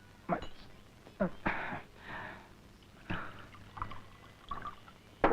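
Liquor is poured into a glass in several short, quiet bursts separated by pauses, with faint sniffs and small sounds in a hushed room.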